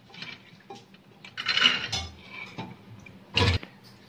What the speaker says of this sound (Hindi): अब इसमें मैं चने ऐड करूँगी।